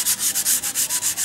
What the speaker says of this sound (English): Next, clean the brake shoe.